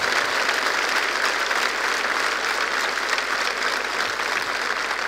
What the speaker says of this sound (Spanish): Le damos un aplauso fuerte al Rey de Reyes